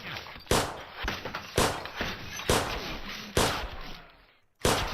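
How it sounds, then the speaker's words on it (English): Glass shatters in an Unreal Engine 5 game scene, a series of sharp impacts repeating roughly every second, each bright crack trailing into tinkling debris. "You can hear the glass breaking."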